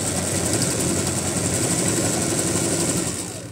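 Sewing machine topstitching a seam on a skirt, a fast, steady mechanical whirring chatter running close and continuous for a few seconds before easing off at the end.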